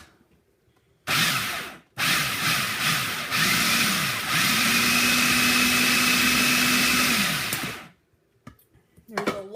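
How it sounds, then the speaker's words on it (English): A kitchen blender whirs through a batch of salsa in two runs. A short burst comes first, then after a brief pause a longer, loud, steady motor drone with a humming pitch lasts about four seconds before it cuts off into a quiet room. "We need to whir a little and taste."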